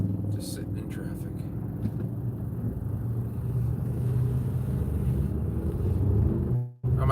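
Low, even rumble of a car idling in rush-hour traffic, held steady and fairly near, with a faint murmur in the background and a brief dropout just before the end.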